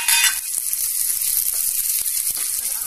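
Dried red chilies dropped into hot oil already holding cumin and crushed pepper, a tempering for bottle gourd milk curry: a continuous close hiss and sizzle with a few faint pops and ticks, no talking.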